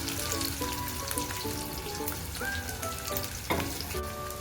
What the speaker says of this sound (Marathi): बोंबील छान फ्राय करून घेते मी आधी।